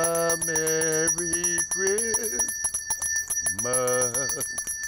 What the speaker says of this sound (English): the Salvation Army recruits volunteers to ring the bell and take donations at locations all over